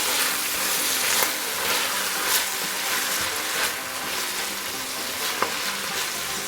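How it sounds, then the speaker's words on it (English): Collard greens fry in hot oil with a dense, loud, continuous crackling sizzle, close up, punctuated by a few sharper pops and stirring bursts as the leaves are turned in the pan. "let it sit on the hot oil for a little bit, and get it in there, flip it"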